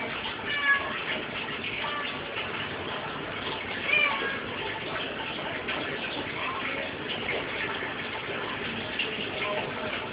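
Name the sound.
cat meowing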